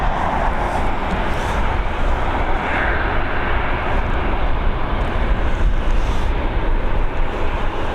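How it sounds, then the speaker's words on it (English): An Aer Lingus Airbus A320, fourteen years old, in from London Gatwick, approaches to land on Dublin's runway 28L in the evening: a steady, fairly loud engine rumble with some wind buffeting and no voices. "Here we go, EI243 coming in from London Gatwick, a 14-year-old Airbus A320 with the old livery."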